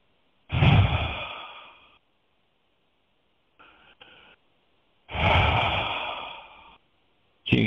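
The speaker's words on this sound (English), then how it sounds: "this sounds like my Darth Vader breath" Deep, slow breaths during a guided meditation, two long loud breathy exhales near the mic with a softer brief breath between and another starting at the end, nothing else around them.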